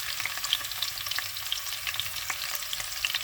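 Onion fries alongside dried chili and panch phoron in oil, making a quiet, even crackling sizzle with small pops scattered across the short stretch and no speech.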